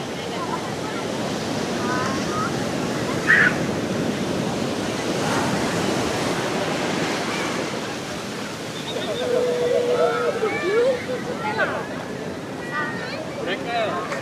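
Ocean surf rolls steadily onto the south coast beach at Cilacap, a continuous broadband wash of breaking waves at moderate loudness, with a few faint voices and brief shouts in the background.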